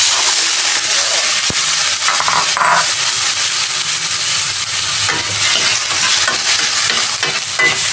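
Squid and broccoli frying in a pan with ginger, a loud, dense sizzle and hiss running steadily throughout with occasional stirring clatter, no speech.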